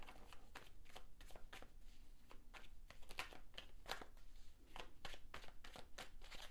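Tarot cards being shuffled, a quick rhythmic series of crisp riffling bursts, close and fairly quiet, with no voice over them.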